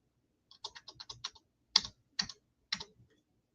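A zip code goes into a computer keyboard as a run of light, rapid key taps, followed by three louder, spaced-out keystrokes, close and clear in a quiet room.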